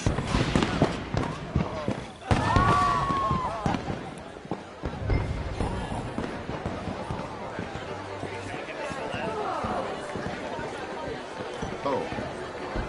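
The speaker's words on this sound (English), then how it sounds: "Let me enjoy the fireworks." Fireworks go off in the video game Red Dead Redemption 2. Scattered pops and crackling bursts of varying loudness continue throughout, some near and sharp, others softer, under and between characters' conversation.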